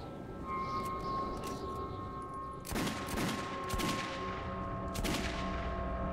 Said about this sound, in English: Is that Hanto shooting?